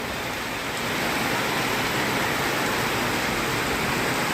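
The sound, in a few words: heavy rain falling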